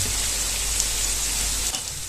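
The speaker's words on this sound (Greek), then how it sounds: "Μετά λοιπόν από 3-4 λεπτά το πολύ τηγάνισμα, τα φαλάφελ είναι έτοιμα." Falafel, served as meatless fasting patties, fry in hot oil with a continuous even sizzle and crackle, a steady hiss of moderate loudness with no talking.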